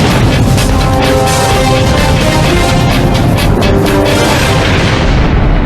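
A fuel leak from a faulty hose clamp sets off an explosion, heard as a loud, dense roaring blast that fills the whole stretch without letting up.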